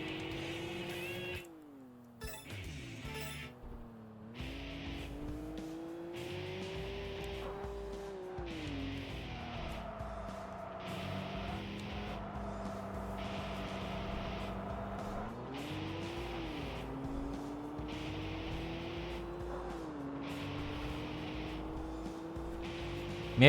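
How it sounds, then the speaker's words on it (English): Porsche 911 GT2 engine in a racing video game, a sustained engine tone rising and falling through gear changes with brief tire squeal, heard alone and fairly close. "Maybe even the best engine sound in the game."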